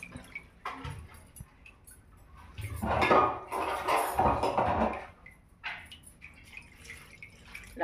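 Water poured into a metal cooking pot holding two green chillies and gongura leaves, a splashing, clinking pour that swells in the middle and tapers off, close and alone with light utensil knocks.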